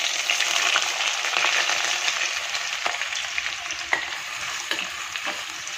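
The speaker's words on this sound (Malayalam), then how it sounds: "ഇനി അരിഞ്ഞു വെച്ചിരുന്ന ചുവന്നുള്ളിയും വെളുത്തുള്ളിയും പച്ചമുളകും ഇഞ്ചിയും കറിവേപ്പിലയും എല്ലാം കൂടി ചേർത്ത് കൊടുക്കാം" Shallots, garlic, green chili, ginger and curry leaves sizzle loudly and steadily in hot oil in a pan for a fish curry, with occasional stirring taps and scrapes, close up and without speech.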